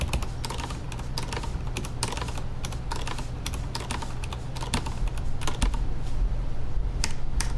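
Someone types on a computer keyboard with a small, one-unit backspace key, producing fast, irregular clicking keystrokes that are close and clear, with no talking.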